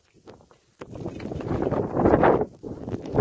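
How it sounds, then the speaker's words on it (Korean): Strong snowy wind gusts across a mountain peak in winter, a loud rushing roar buffeting the microphone and swelling steadily after a brief quiet start. "여긴 거친 눈바람이 장난 아니게 불고 있어."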